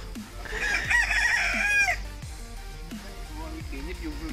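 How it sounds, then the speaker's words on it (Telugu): Chickens and a rooster at a weekend farm house in Vikarabad: a loud, close rooster crow lasts about a second and a half, followed by scattered short clucks. "కోళ్ళు"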